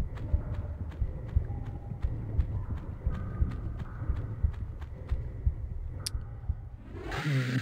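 Horse hooves clip-clop at a steady trotting rhythm in Tomb Raider 1 Remastered, a regular series of sharp knocks over a rumbling game backdrop, ending in a brief swell of other game noise.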